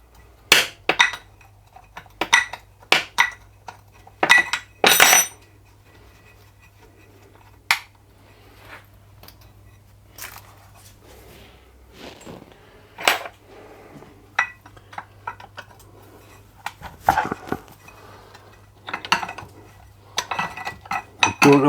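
Metal tools clink and clatter as someone rummages through a pile for a ring spanner, sharp irregular bursts of jangling steel close up, separated by quiet pauses while searching.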